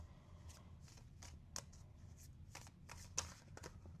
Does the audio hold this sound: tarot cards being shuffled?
yes